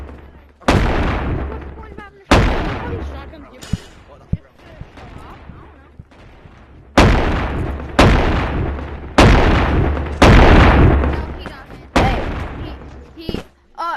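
Shotgun blasts in the video game Animal Company: about eight loud, sharp booms, each trailing off in a short decay, come irregularly spaced, with quieter clatter between them.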